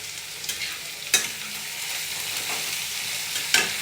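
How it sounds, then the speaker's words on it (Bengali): Mixed vegetables stir-fried in a hot pan for egg chowmein, giving a soft continuous sizzle broken by a few sharp scrapes and clatters of the stirring utensil, with no talk. "তো সবজিগুলো আমি দিয়ে দিয়েছি, ভালো করে নাড়িয়ে চাড়িয়ে নিচ্ছি। এবার ভাজাভুজি চলছে।"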